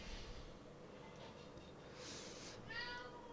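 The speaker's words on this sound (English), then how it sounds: "My cat's just meowing." A domestic cat meows a few times, the calls rising and wavering, heard close over a low steady background hum and murmur.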